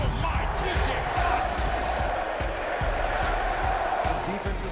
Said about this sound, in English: The crowd at Acrisure is so loud.